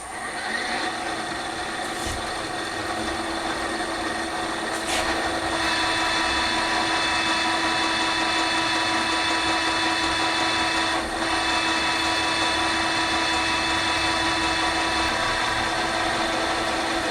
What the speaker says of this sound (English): So we are ready to drill the other side now.